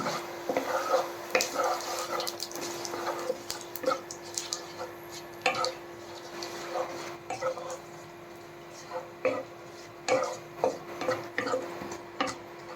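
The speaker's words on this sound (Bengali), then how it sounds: "গোটা শুকনো লঙ্কা এবং ফোড়নে দেব রাঁধুনি।" Dried red chillies and radhuni seeds tempering in hot oil for Bengali dudh shukto, with a steady faint sizzle under irregular scrapes and clinks of a spoon against the pan.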